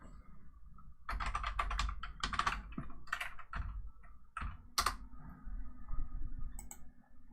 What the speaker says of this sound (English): So I'm going to type Klipper.